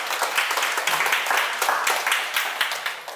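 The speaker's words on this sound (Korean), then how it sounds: "큰 박수" A seated audience at a Buddhist teaching talk claps in a steady, dense round of applause lasting a few seconds, fairly close and even, with faint voices beneath.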